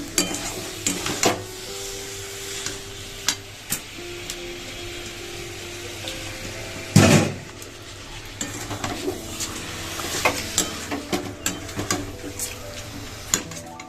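Washed chicken is sautéed with cooked spice masala in a pan. A soft, steady sizzle sits under repeated scraping and clattering stirs, with one heavier knock of the spatula midway.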